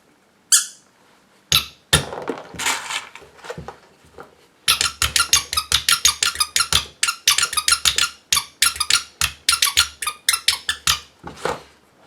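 A rubber duck toy squeaks, a few isolated squeezes at first, then a long fast run of sharp, loud squeaks, close by, with no talking.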